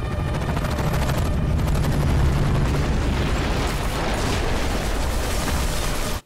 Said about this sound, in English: And that explosion like created a pathway somewhere.